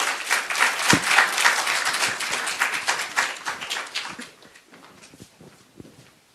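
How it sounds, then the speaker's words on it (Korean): An audience claps steadily for several seconds to welcome a professor to a lecture, a dense, fairly close round of applause that thins and fades away toward the end. "박수로 환영해 주시기 바랍니다."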